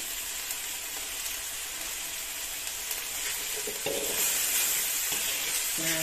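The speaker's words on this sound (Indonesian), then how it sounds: "Nah, ini dioseng-oseng terus." Spice paste with chilies for Balinese-style milkfish stir-fried in a pan, a steady close sizzle and frying hiss with occasional scraping stirs growing slightly louder toward the end.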